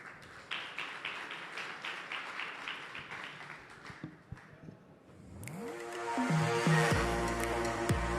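An audience applauding a guest at a French morning talk event: a few seconds of quick, fairly close clapping that fades out, followed by a rising musical jingle.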